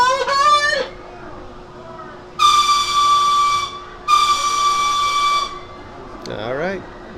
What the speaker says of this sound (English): two very loud train whistles, and they are very loud